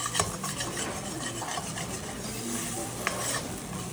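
Food stirred in a pan while shabu shabu rice is cooked, with a steady scraping and rubbing of utensil against the pan under a faint sizzle and a couple of sharper clinks.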